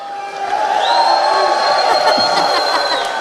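An esports arena crowd at a Dota 2 major playoff match roars and whoops, a steady swell of cheering with a long whistle-like tone over it, no speech in the foreground.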